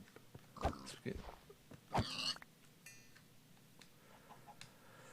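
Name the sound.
chicken clucking in Minecraft video game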